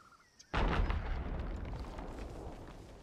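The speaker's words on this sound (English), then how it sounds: "I just hear some explosion" A sudden, loud explosion in the pirate video game Sea of Thieves, a sharp blast followed by a long, rumbling roar that slowly fades over several seconds, heard alone.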